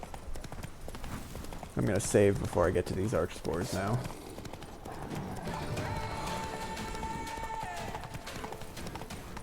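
Roach the horse gallops in The Witcher 3, a clip-clop of hooves with a whinny near the start, loud in the middle, then game sounds continue while someone talks over it throughout.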